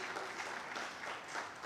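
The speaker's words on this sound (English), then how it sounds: "Let's give them a big round of applause." Audience claps for panel members, a short, faint and fairly steady patter of applause heard from a distance.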